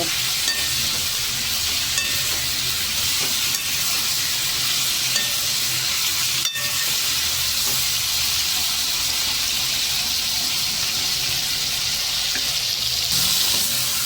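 A tomato and fenugreek relish (methiya tameta sambharo) sizzles and bubbles in a pan on the stove. The frying hiss is close and continuous, with faint stirring scrapes and no talking.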